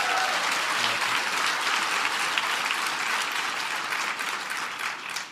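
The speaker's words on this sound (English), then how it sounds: "a big round of applause" Sustained applause from a large crowd at a White House event, steady and dense throughout, tapering slightly near the end.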